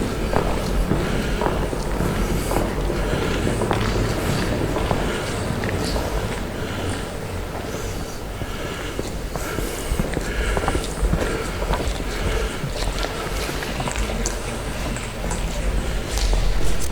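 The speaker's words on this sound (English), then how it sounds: "Is there somebody following us in high heels?" Footsteps resembling high heels clicking along outdoors in mist, a faint irregular tapping mixed into steady background noise throughout.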